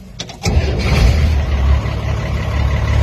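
The Herkimer Battle Jitney from Mystery Men (1999) cranks and its exposed engine catches, then settles into a loud, close, rumbling idle with an uneven throb.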